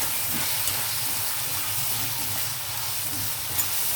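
Curry leaves and green chillies hitting hot oil with browned onions for an Andhra-style chicken chinta chiguru curry, giving a steady, close, dense sizzling hiss throughout with faint stirring, no voices.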